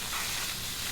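Steam hisses steadily from a Columbia CX 30 espresso machine, a close, fairly loud broadband rush that holds without a break and has no talking over it.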